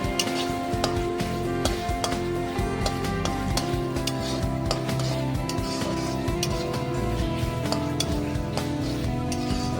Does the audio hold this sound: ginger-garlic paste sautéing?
yes